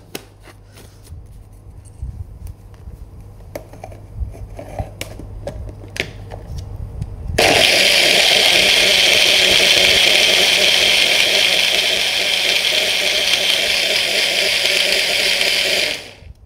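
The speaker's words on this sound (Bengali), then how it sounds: "তাহলে আরেকবার আমি জাস্ট ব্লেন্ডারটাকে" An electric blender mixing a thick milkshake thinned with a little water; after several seconds of quiet handling clicks, the motor kicks in abruptly with a loud, steady whirring roar that runs for about nine seconds before stopping.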